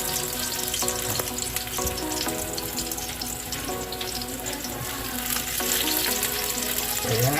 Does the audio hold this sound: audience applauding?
no